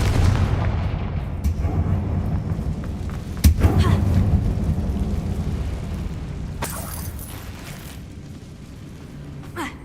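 A Confringo blasting spell explodes in a Harry Potter video game inside an abandoned mine, one sharp loud blast over a dense, rumbling background of game sound.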